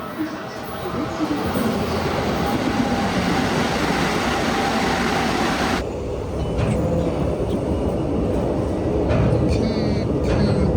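Keikyu Line train running, a loud steady rumble of wheels and carriage noise heard from inside, with a muffled shift in tone partway through and a voice faintly under it.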